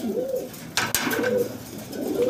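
Caged pigeons for sale coo repeatedly at close range in a steady rolling rhythm, with a brief sharp knock in the middle.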